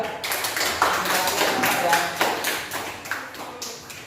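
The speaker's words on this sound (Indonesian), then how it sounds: "terakhir tepuk tangan untuk kelompok 3" A primary school class claps for a group of classmates at the end of a lesson, giving quick, uneven hand claps and taps that come through clearly at close range.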